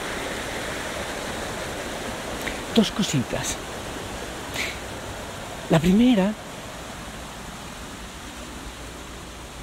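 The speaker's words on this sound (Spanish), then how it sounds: "¿Escuchas el agua, verdad?" Water rushes far below a high bridge in a steady, broadband roar that runs through the whole stretch, while someone speaks over it.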